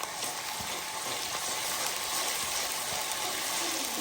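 Ginger garlic paste and onions sautéing in a pan, with a steady, soft sizzle and faint stirring scrapes running continuously and alone.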